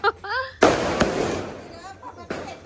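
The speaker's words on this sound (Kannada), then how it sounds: "ಪಟಾಕಿ ಅಂತ" A loud firecracker burst cracks out during a Ganesha festival, followed by a sharp pop and a crackling fizz, with people talking before and after.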